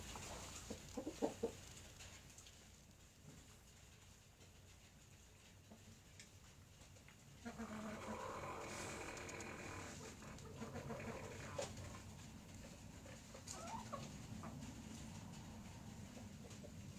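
A small flock of twelve chickens clucks faintly in scattered bursts against a quiet background, with no talking.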